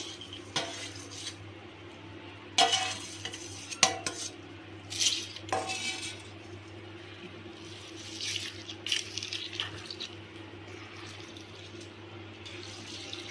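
Cooled tempering stirred into sesame-powder lime pickle in a metal pot, a spoon clinking and scraping in scattered bursts with soft wet mixing sounds in between, close and fairly quiet.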